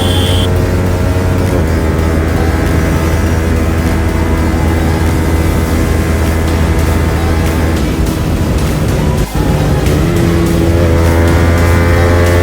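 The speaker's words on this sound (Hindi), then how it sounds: "क्विक शिफ्टर की साउंड चेक करो।" A Yamaha R15 V4 motorcycle fitted with an R9 exhaust screams at high revs with quickshifter upshifts, the loud continuous engine note dropping briefly at each quick gear change.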